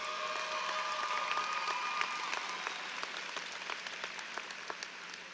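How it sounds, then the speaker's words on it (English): Graduating class of 2014 at a university commencement gives a sustained round of applause, a broad, even patter of many hands from a large audience heard at some distance, with a few sharper claps standing out. "a round of applause for the people in your"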